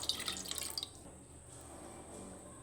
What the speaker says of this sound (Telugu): ఈ కప్పు నిండా 4 కప్పులు వాటర్ తీసుకోండి.